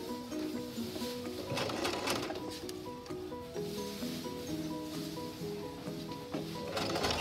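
A sewing machine stitching a cloth face mask at a slow, steady pace, with a continuous mechanical whir and rattle running throughout.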